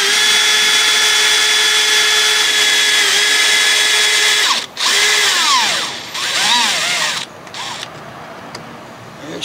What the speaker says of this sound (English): Get my drill.